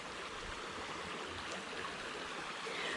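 Water rushes steadily through a river at Alafia River State Park after heavy rain, a constant close wash of flowing water without voices.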